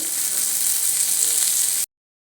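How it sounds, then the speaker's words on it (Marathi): Surmai fish shallow-frying in a pan and being turned to cook both sides, a loud, even hiss of sizzling oil filling the clip before cutting off abruptly. "असं परतत परतत भाजायचं म्हणजे छान दोन्ही साईडने व्यवस्थित भाजलं जातं"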